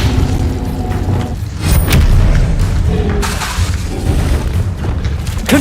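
An Incendio fire spell cast in Hogwarts Legacy, heard as loud, dense booming bursts and rumbling thuds over continuous game noise, with no talking.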